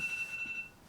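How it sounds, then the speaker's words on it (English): Phone alarm sounding as a faint, steady electronic tone held for most of a second, alone with no talk, just before leaving for the airport. "that's my alarm to tell me to leave"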